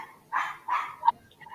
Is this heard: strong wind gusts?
no